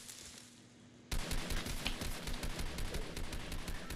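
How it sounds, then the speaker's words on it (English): Fortnite gunfire: after a second of quieter background, a dense, loud burst of rapid shots rattles on without pause. "I'm gonna pop out of here and shoot him."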